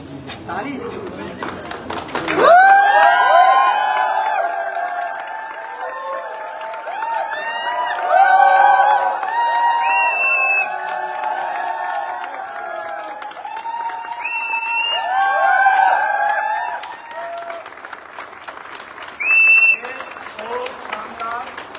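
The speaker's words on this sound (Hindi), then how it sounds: "जोरदार तालियों के साथ तैयारी के साथ ताली।" Audience at a company achievers' event, with bursts of loud clapping and cheering that swell and fade in waves, mixed with crowd noise and voices, some sharp high whistles standing out near the end.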